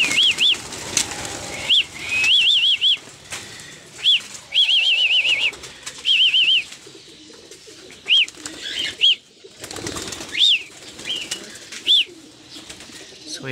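Pigeons released to fly, their wings flapping in repeated short bursts alongside sharp high chirping calls, close and moderately loud, with no talk.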